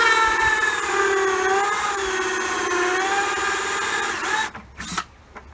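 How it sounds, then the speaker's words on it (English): A power drill bores into a strawberry planter, a steady whining motor with harmonic tones that runs for about four seconds before cutting off, followed by a few short clatters. "I drilled in at an angle, not straight in"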